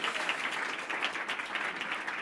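A room of spectators at a magic performance claps steadily for a volunteer coming on stage, a soft, even patter of many hands heard at a slight distance without talk.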